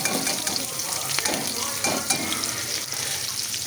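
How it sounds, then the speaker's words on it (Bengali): Chopped onion and green chilli frying with cumin in a pan: a dense, continuous close sizzle with crackling and occasional scraping of a spatula as the mix is stirred, with no voices. "এই পেঁয়াজ লঙ্কা কুচিগুলো মোটামুটি একটু লাল লাল মতন ভাজা হবে।"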